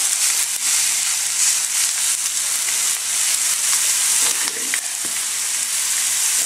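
Steak frying in a pan in a survival bunker, a loud steady sizzle with hissing fat crackle running throughout, close and alone with no talking.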